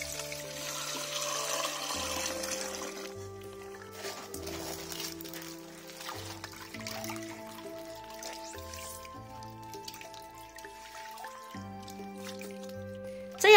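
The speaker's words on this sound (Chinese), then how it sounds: "再次把淀粉水倒入滤袋里过滤一遍" Sweet potato starch water drips and trickles through a filter bag at close range, soft and continuous beneath gentle background music.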